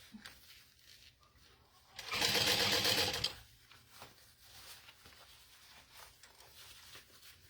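A sewing machine stitches a Zip N Go bag in one brief burst of about a second, fairly close, with quiet room noise and light handling before and after.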